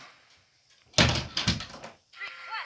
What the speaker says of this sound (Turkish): Birisi girdi. Kusura bakma o yüzden kapı sesi gelmiş olabilir.